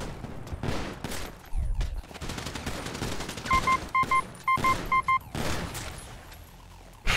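Gunfire in GTA V roleplay: rapid automatic bursts and scattered shots crackle in quick clusters, with short beeping tones among the volleys.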